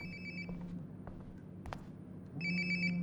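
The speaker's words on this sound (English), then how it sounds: "Sounds like my phone is definitely nearby." A phone ringtone rings in Life is Strange: Before the Storm, with two bursts of repeated electronic chirps at the start and end and quieter room sounds between them.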